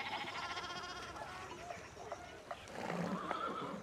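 A horse neighs in the historical video game Pentiment, a whinny rising over a soft clip-clop and background ambience, with a fainter animal call near the end.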